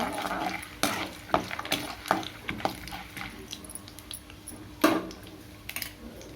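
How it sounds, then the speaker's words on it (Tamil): Peanuts sautéed in a pan for puliyodharai rattle and scrape under a stirring spoon, with irregular knocks and clinks against the pan over a low frying hiss, close by and without talk. "இப்போ வேர்க்கடலை கொஞ்சம் போட்டுக்கோங்க. அதை ஒரு 5 நிமிஷம் வதக்கி வச்சுக்கோங்க."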